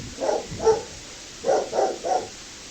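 A pet dog barks indoors, first two sharp barks and then three more in quick succession, close and fairly loud over a steady background hiss.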